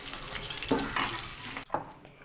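Potatoes frying in oil sizzle up close, with a couple of stirring scrapes and a brief dip near the end.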